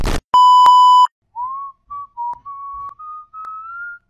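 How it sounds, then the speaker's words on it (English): A clear, steady whistled tone opens with a louder beep-like note, followed by a string of short sliding whistled notes rising and falling at a moderate pitch, alone with no talk, in a Gacha animated scene. "you have to whistle"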